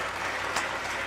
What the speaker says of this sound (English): I gotta give her another round of applause.